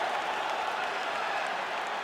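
A virtual arena crowd in the UFC 5 video game cheers and applauds after a fight goes the full distance, a dense, steady roar of voices and clapping sustained throughout.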